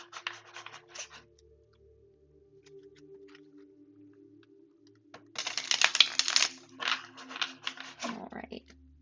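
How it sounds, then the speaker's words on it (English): A deck of tarot cards is shuffled by hand, with soft papery riffles and flutters at first, then a louder burst of rapid card slapping, while a low voice murmurs underneath. "but we'll do another shuffle."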